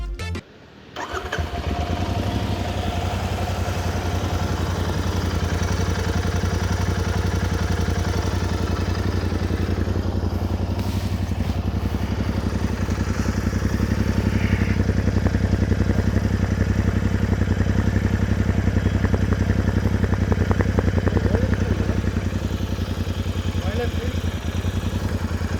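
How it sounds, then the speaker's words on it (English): A Royal Enfield Continental GT650 parallel-twin motorcycle fires up and settles into a loud, steady, throbbing idle close to the microphone, holding an even rumble for the whole stretch with only slight variation. "Let me just show you how this particular engine sounds."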